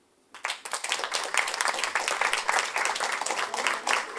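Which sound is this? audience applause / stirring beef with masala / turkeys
audience applause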